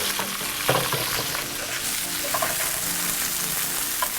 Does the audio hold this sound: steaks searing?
yes